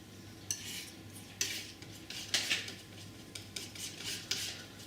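A palette knife scrapes and mixes oil paint colours, yellow with natural raw sienna, on a palette, giving a series of short gritty scraping strokes at close range over a steady low hum.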